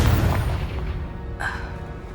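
Confringo fire spell blasting in the Hogwarts Legacy video game, one heavy booming burst with a low rumble that fades out, and a brief brighter crackle late in the short stretch, with no talking.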